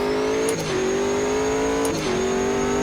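A race car engine in Automobilista 2 pulls out of the pits, droning loudly and steadily near at hand, with two brief shifts in pitch as the gears change, and no voices.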